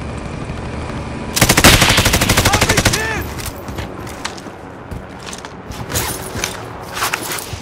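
Rapid bursts of gunfire from a kid shooting from behind, a dense loud volley lasting about a second and a half, then scattered quieter shots and clatter with mechanical creaks.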